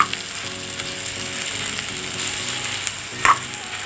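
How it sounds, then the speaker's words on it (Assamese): Chunks of elephant foot yam fry in oil in a pan for pickle, giving a steady close sizzle with one brief clink near the end and no voices. "অকণমান সময় ভাজিব লাগিব।"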